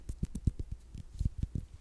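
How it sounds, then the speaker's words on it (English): Fingertips tapping on a red glass ink bottle, a quick run of soft, close, muffled knocks in an irregular rhythm, about a dozen taps over a brief span. "This is tapping with my fingers."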